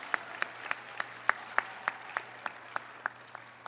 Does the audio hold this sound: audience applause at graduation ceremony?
yes